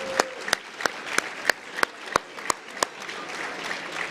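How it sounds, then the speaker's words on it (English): Guests at a charity dinner clap for the meal servers, a sparse, even run of sharp individual claps over a quiet room murmur, moderately distant. "Please give a round of applause to all those who are serving and preparing our meal for us tonight."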